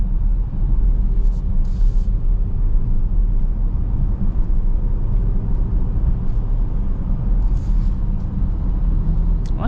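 A 2025 Dodge Durango R/T with a Hemi V8 cruising, heard as a steady, loud low rumble of engine and road noise from inside the cabin with no talking.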